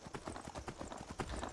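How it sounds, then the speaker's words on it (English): Horse hooves clip-clop steadily in Skyrim (modded playthrough), a near, even rhythm of about eight hoof beats under faint game ambience. "Meaty's horse waiting for Meaty to ride on"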